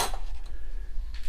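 Cutlery and tableware in an abandoned restaurant storeroom of a large mansion in Belgium clink briefly, a sharp metallic chink at the start followed by a few light, close rattles over low background rumble.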